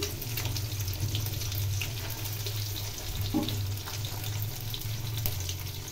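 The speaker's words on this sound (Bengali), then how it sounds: "এদিকে মাছগুলো ভেজে নিচ্ছি" Small bacha fish frying in hot oil in a pan for Bengali machher jhol, a steady, even sizzle with a faint crackle that holds at a close, moderate level throughout with no voices.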